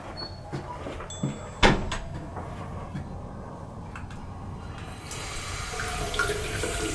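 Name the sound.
running water from a tap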